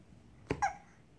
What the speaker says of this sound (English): Uh-oh, you got the hiccups.